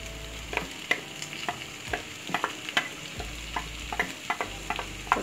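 Onions frying in a pan while making Telugu fish porutu: a close sizzle broken by frequent clicking and scraping stirs, with a low hum cutting in and out underneath and no speech.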